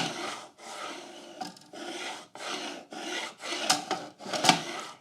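Wood and a mitre gauge rubbing and sticking as they are pushed across a Metabo TS254 table saw, giving repeated rough rasping scrapes in uneven bursts with short pauses, fairly close and alone without talk.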